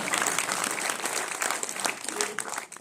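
Audience at a kavi sammelan poetry gathering in Alwar breaking into loud, sustained applause, dense clapping from a large crowd close by filling the whole stretch.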